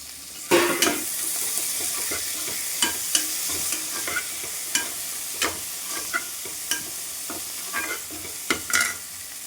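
Tomatoes and onions, with green chilli and curry leaves, being stirred and sautéed in a pan for mutton kulambu: a steady soft sizzle broken by repeated scraping stir strokes at an irregular rhythm, close and moderately loud.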